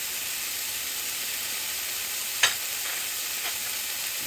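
Tomatoes and tofu sizzle with a steady, bright hiss as they stir-fry in a pot for soup, with one sharp scrape of the spatula partway through and a softer stir after it.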